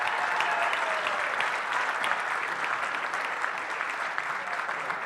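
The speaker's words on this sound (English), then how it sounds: "Round of applause to all of them." An audience gives a steady round of applause for living donors at an awards event, with dense clapping from a crowd that holds constant for about five seconds.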